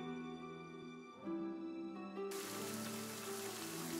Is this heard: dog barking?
no